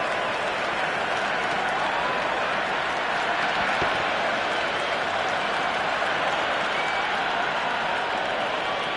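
A large stadium crowd roars and applauds in Cricket 26 after a six, a dense, sustained wall of cheering that holds steady throughout with no clear voices on top.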